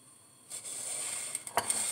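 Banana slices for maruya hitting hot oil, a sudden bright sizzle that starts partway through and keeps going steadily, with a few small clinks of a utensil near the pan.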